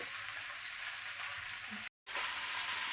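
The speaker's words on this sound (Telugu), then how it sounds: "నేను ఇప్పుడు ఆ గోంగూరని బాండీలో వేసుకొని బాండీలో వేసుకుంటున్నానండి వేసుకున్న తర్వాత వేయించుకోవాలండి" Gongura leaves fry in a kadai with a constant bright sizzle, broken by a brief gap before the sizzling continues.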